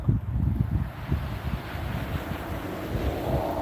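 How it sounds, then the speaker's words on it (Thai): Strong wind buffets the microphone outdoors throughout, a steady loud low rumble with gusting swells and no voices. "เสียงลมก็ดัง"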